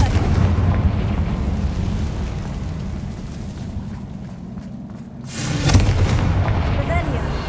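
Confringo fire spell blasts in Hogwarts Legacy, booming, crackling fiery bursts with a rumbling tail and a sharper burst near the end, loud and close.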